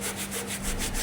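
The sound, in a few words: dry sanding car panel with 120 grit sandpaper and block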